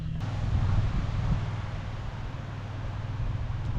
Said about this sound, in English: Rainy and windy.